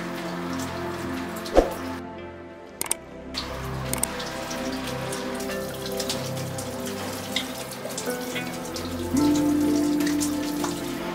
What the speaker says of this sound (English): Then I'm washing that away with my water flosser.